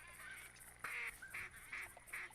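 Ducks call in theHunter Classic hunting video game during a duck hunt with a hunting dog, a series of nasal honking quacks in an irregular rhythm, fairly close, over a steady hiss of outdoor ambience.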